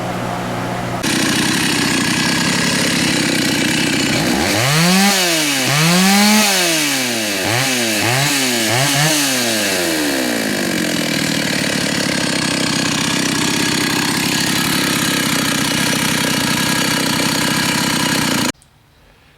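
An old garage-sale tractor engine running close by, a loud rough chugging drone with a few rising and falling revs early on, then a steady idle before it cuts off abruptly near the end.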